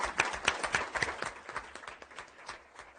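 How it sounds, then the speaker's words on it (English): Scattered clapping from a small audience at a commission meeting, honouring a departing colleague; a few distinct, irregular claps close by, fairly light rather than a full ovation. "So if you'll join me, I'd like to applaud with you."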